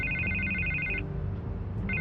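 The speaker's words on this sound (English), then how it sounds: "I can't get the phone to stop ringing." A telephone rings in Batman: The Telltale Series, repeated electronic trills that stop briefly and then start again over a low, busy background rumble.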